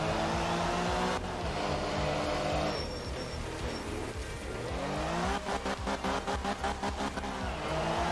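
Rally car in the racing game Art of Rally, engine loud and close as it revs through gear changes, tires squealing and skidding under handbrake turns, with a rapid rhythmic stutter of revs toward the end.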